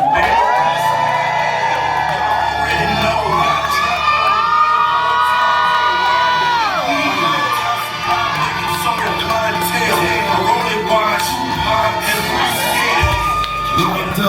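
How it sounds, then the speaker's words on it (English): A large crowd at a Jeezy Thug Motivation anniversary event cheers and whoops loudly and continuously, with high shouts and yells rising over the roar throughout. "can y'all please make some noise for young Jeezy?"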